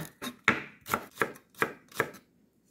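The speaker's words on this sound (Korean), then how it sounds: "파도 어슷어슷하게 오이처럼 썰어줍니다." A knife slices green onions diagonally on a cutting board, six quick, evenly spaced crisp cuts close up, then stops.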